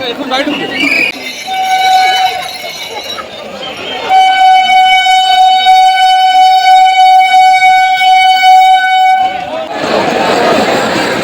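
A crowded railway station at Sheoraphuli: a train horn sounds, then blares in one long sustained blast over a steady background of crowd noise.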